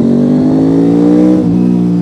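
A budget sports-touring motorcycle engine holds a steady, loud rev, its throaty drone rising slightly in pitch before easing back near the end, close by with no talking.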